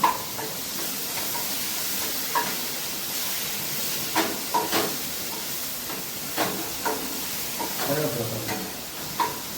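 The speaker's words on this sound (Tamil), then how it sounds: "அடுத்தது வந்து தக்காளி சாறு அதில் விடணும் நல்லா வதங்கணும் தக்காளி" Tomato juice sautéing in a hot pan, a steady broadband hiss of sizzling with scattered soft clicks and light pops throughout, close and continuous.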